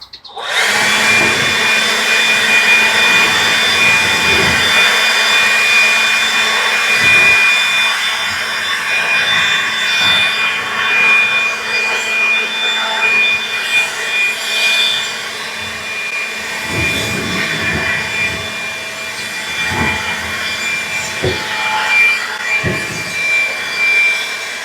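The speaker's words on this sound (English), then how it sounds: "I got my friend, the DeWalt electric blower." A DeWalt electric blower runs steadily and loudly throughout with a high whine and rushing air, used outdoors while painting metal roof panels on a firewood shed, with a few faint knocks underneath.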